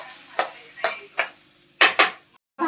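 A spoon scrapes and scoops dry-roasted masala spices out of a pan while making homemade chole, giving a handful of short, close metallic scrapes at uneven intervals, with a brief silent gap near the end.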